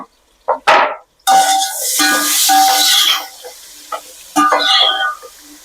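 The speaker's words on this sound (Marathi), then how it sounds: "त्याला छान परतून घ्यायचं कांद्याला." Chopped onion sizzles and sautés in a hot pan, with a steady frying hiss broken by the scrape and clatter of stirring, close and fairly loud, with brief pauses between bursts.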